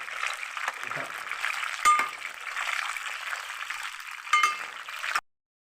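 Eggplant masala curry gets stirred in a pan, a steady hiss of frying broken by two sharper scrapes and clinks of the spoon against the pan, close up and without talk.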